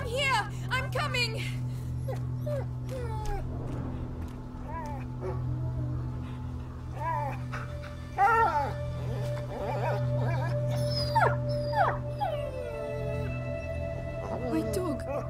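Dog whimpering and yelping in the A Plague Tale: Innocence video game, with short whines recurring throughout over a steady low hum and game ambience, mixed with voices talking.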